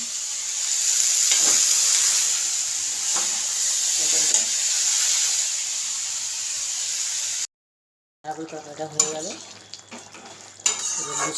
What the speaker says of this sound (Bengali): লুচি মাঝে ভেজে নিচ্ছি ছোট ছোট সাইজ করে করেছি